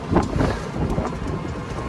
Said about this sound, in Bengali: সমুদ্রে বাতাসই আছে।